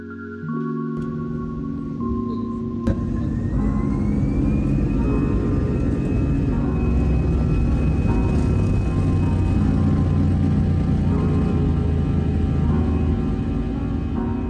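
Inside an airliner on a 50-minute flight from São Paulo to Londrina, a loud, steady cabin roar of jet engines rises after a brief shift near the start, then holds a constant broadband rumble with a faint high whine.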